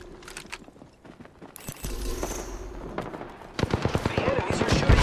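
Enemy gunfire in Apex Legends: rapid bursts of automatic shots crackle in quick succession, growing louder and denser toward the end, with some game movement noise.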